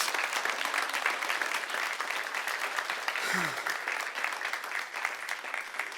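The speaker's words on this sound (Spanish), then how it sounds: "dale un aplauso bien fuerte al Rey de Reyes" A church congregation applauds loudly and continuously for the whole stretch, a dense wash of many hands with a brief voice cutting through partway.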